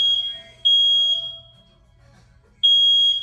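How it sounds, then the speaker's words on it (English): A hotel fire alarm sounds in a travel stop hotel at 3 a.m., two loud piercing electronic tone bursts separated by a short near-silent gap, heard close and alone. "It's the fire alarm, Murphy."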